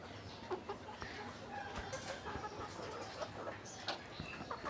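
Native farm hens, recovering from illness, cluck softly and intermittently in a busy, faint background of shuffling and rustle, with no single bird standing out.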